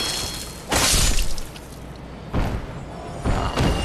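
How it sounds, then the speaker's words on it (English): An enemy in Dark Souls hurls fire bombs that burst in three loud, near whooshing blasts, each about half a second long, spaced across a low background rumble with no talk. "that guy there tends to throw fire bombs"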